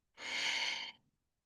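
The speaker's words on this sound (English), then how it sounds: "Take a final, deep, juicy, life-affirming breath." A single deep breath, drawn in and released as one smooth, airy swell lasting under a second, close and soft at the end of a calm guided meditation.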